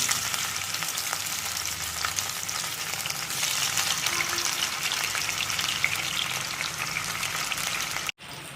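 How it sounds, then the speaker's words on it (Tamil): Fish pieces sizzle and crackle steadily in hot oil over medium heat for a Tamil fish fry, a dense, even frying hiss that runs alone and close, with one brief clatter near the end. "இப்போ எண்ணெய் சூடாகிட்டு நம்ம ஒவ்வொரு துண்டாக போட்டு எடுத்துக்கிடுவோம்"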